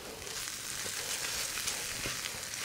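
Tomato paste sizzles in a hot pan as it cooks down for spaghetti and meatballs, giving a steady, dense crackle that is close and even throughout with no talking.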